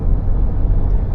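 Interior rumble of a Mercedes W124 cruising at 180 km/h on the Autobahn, a steady, loud low-frequency road and engine drone.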